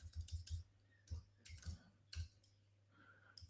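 Typing on a computer keyboard: a handful of quick, light keystroke clicks in uneven bursts, fairly faint and close, with no talking.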